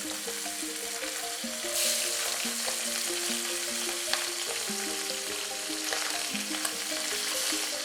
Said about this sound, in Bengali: তেল গরম হয়ে গেলে এর মধ্যে পমফ্রেট মাছগুলোকে ভেজে নেব।